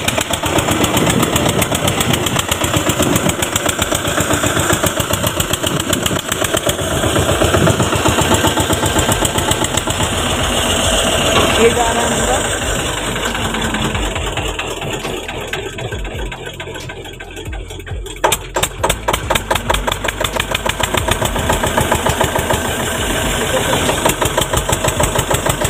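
A reaper harvesting machine runs on a farm with a loud, rapid, knocking engine that chugs steadily throughout. The engine briefly dips before surging back, and faint voices can be heard underneath.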